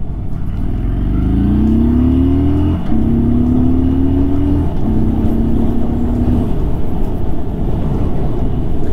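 An SWM Stormbreaker 1200 Black motorcycle engine revs in rising steps, its pitch climbing several times, loud, close and continuous, with no talking.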